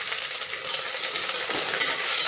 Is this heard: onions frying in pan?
yes